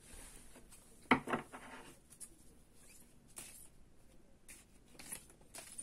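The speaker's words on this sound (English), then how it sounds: "we will go ahead and start shuffling" Quiet shuffling of oracle cards, with soft rustles and one sharper flick of cards near the start.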